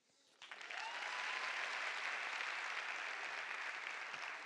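An audience claps together in a dense, sustained burst of applause that starts suddenly and holds steady for several seconds, heard from a short distance at moderate volume with no voices over it.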